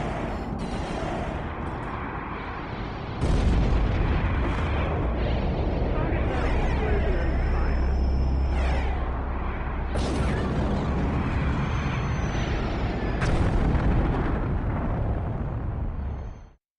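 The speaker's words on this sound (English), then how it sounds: "Target setting explosion and fire" Video game explosions and artillery fire erupt in a loud, continuous barrage, with heavy booms striking every few seconds over a rumbling base that cuts off abruptly at the end.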